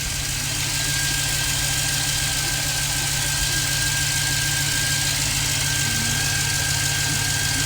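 A Chevy Express van engine idling steadily after new spark plugs, wires and ignition coils, with a low, even rumble and a faint high whine, running continuously with no voices.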